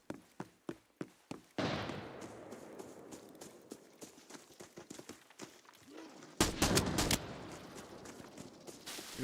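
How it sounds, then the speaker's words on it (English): Rapid MPX submachine gun fire in a video game, a few sharp rhythmic shots opening, then continuous crackling fire with a loud burst near the end, reverberant and fairly close. "I think it's an MPX I'm hearing."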